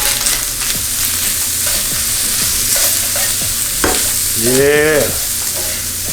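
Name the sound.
lamb stir fry with green onion sizzling in pan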